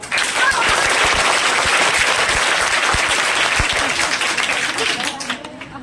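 Sustained clapping from a large group at a school farewell and felicitation ceremony in Bhojpur, loud and dense throughout before thinning slightly near the end.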